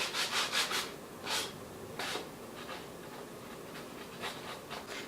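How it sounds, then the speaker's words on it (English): Hand sanding of the corners of small wood pieces for a license plate bin, heard as short, close, scratchy rubbing strokes in quick rhythmic bursts with pauses between them, alone and fairly quiet. "if you sand all the corners down a little bit, it can give it more of a worn, aged look"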